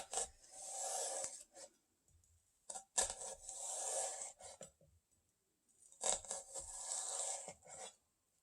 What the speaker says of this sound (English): So I'm going to insert my knife almost to the root end